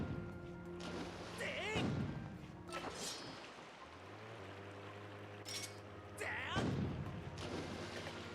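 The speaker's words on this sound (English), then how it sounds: "Is it really a safe idea for me to be firing cannons at it?" Cannons fire in the Sandship dungeon of a video game, with several loud booming blasts spaced a few seconds apart over a low droning hum, with game sound effects mixed in.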